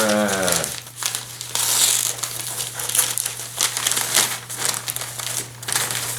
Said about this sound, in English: I guess we'll just unwrap this like a Christmas